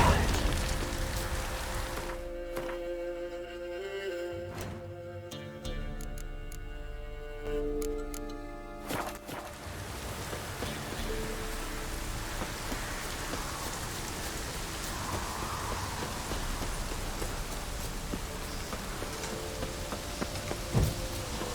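Steady heavy rain in the video game The Witcher 3: Wild Hunt hisses throughout, with a stretch of tonal music and ticking early on before the downpour dominates.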